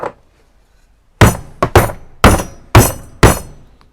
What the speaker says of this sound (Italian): non si spacca con le martellate, quindi può anche prendere qualche colpo senza problemi